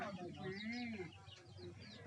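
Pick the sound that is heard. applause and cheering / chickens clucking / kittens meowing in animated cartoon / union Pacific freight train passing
chickens clucking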